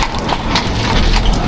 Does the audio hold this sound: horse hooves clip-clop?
yes